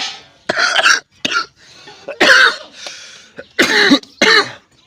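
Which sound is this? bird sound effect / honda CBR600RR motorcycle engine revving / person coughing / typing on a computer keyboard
person coughing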